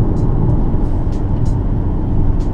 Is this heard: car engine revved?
yes